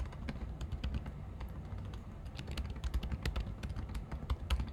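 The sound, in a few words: typing C++ code on a computer keyboard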